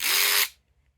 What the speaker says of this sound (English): electric ratchets are great